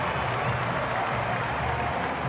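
A cricket crowd seated on beanbags at a Big Bash match cheers and applauds after a shot, a steady wash of clapping and crowd noise heard from a distance.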